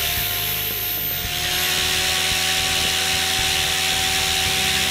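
A Goblin 500 RC helicopter's electric rotor runs steadily at idle-up speed, with a close, loud, even whine and steady tonal hum throughout and no talking.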